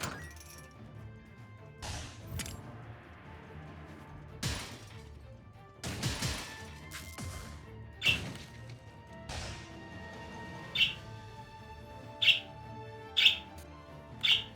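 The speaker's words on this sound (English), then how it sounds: "I am not going to chastise my birds simply for being birds" Pet birds squawk in a room in short, sharp bursts, loud and close, with bangs and clatter scattered between the calls and no talking.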